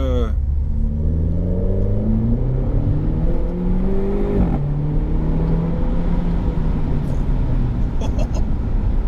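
A 2017 Renault Clio 4 RS Trophy engine pulls hard while the car accelerates, its tone climbing steadily through the revs, dropping at a gear change and rising again, with someone talking over it inside the car.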